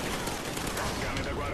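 Loud, continuous gunfire in Call of Duty Ghosts, with dense overlapping bursts and rapid shots filling the whole short stretch without a break.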